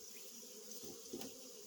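Honeybees from a freshly moved hive hum in a faint, steady, continuous buzz with slight swells, close by and without any voices.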